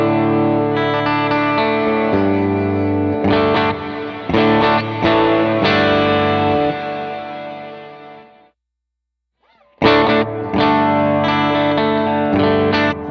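Electric guitar chords through a reverb pedal with the highs turned all the way up ring out with a bright, washy reverb tail, sustaining between strums, a brief silent gap, then more reverberant bright chords.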